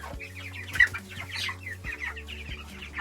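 Several chickens cluck and chirp softly nearby over a low steady hum, with a few louder squawks.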